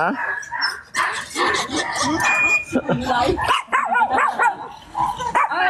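A dog barks and yips repeatedly at close range, its barks mixed with a voice talking over and between them, fairly loud throughout.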